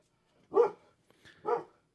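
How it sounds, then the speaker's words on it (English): A dog barks twice from a short distance indoors, two distinct woofs about a second apart with a quieter yelp between them and no talking. "there goes my dog barking at God knows what"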